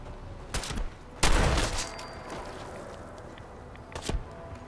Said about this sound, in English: I'm sitting here shooting Longfellow. He has like a repeater or something.